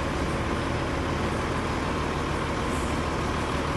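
A truck driving along a road, a dense, steady broadband rumble of engine and road roar that stays loud and close throughout, with no speech.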